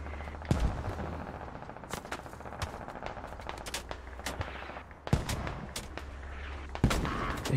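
Video-game battle gunfire from an anti-aircraft truck: sharp shots and short bursts crack out at irregular intervals, with a few louder, closer blasts rising over a low rumbling background.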